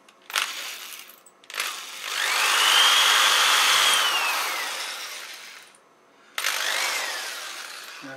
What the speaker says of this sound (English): drill a hole in the middle